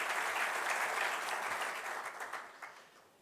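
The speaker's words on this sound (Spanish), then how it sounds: "también le pido un fuerte aplauso para ellos" Applause at an awards ceremony fills the room with dense, sustained clapping that starts strong and gradually thins and fades over about three seconds.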